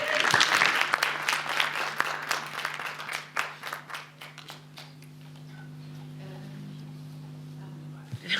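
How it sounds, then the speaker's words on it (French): An audience at a film festival initiatives event applauds loudly at first, then the clapping thins to scattered claps and fades, leaving a low steady hum with faint voices. "Vous pouvez les applaudir."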